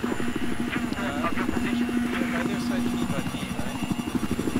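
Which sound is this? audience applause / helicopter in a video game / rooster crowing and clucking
helicopter in a video game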